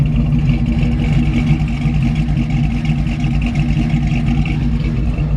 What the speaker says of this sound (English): It's got an excellent sounding engine.